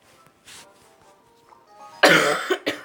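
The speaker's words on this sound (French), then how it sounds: "Excusez-moi pour ma toux." Several harsh coughs from one person, a faint one early on and then a loud close burst with two shorter follow-ups near the end, heard over a quiet room background.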